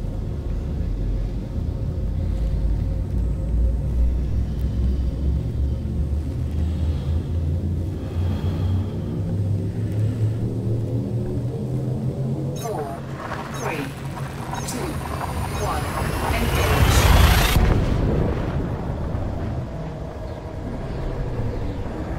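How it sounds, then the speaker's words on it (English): A spacecraft's frame shift drive spooling up in Elite: Dangerous, a loud building rumble that rises in pitch and swells to a roaring peak before easing off, with no talk over it. "Frameshift drive charging."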